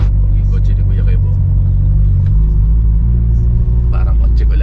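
A car engine rumbles close and loud in a deep, continuous drone, with brief rises as it revs; people talk over it throughout.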